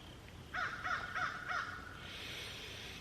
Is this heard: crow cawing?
yes